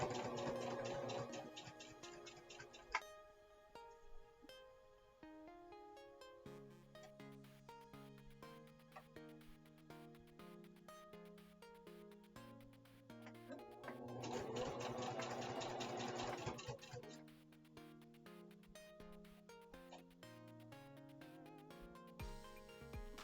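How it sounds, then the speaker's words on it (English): Domestic sewing machine stitching appliqué stars, running in several bursts of fast mechanical whirring and rhythmic needle clatter, with a louder burst midway and quiet pauses between, no talk. "for anyone that might not know instinctively how sewing machines work"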